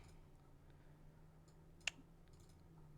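A single crisp computer mouse click, close and sharp, lands once amid a quiet room with a steady low electrical hum and no talking.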